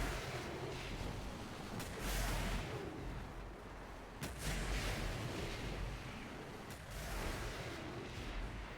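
Wall-mounted launchers fire in Destiny 2's Shattered Throne dungeon, producing repeated heavy booming blasts with sharp onsets about every couple of seconds over a dense rumbling background.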